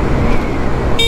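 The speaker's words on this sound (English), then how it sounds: "I think that's his car." A car rolls past on a road with a loud, close, steady rush of engine and tyre noise throughout, a short tonal blip at the very end.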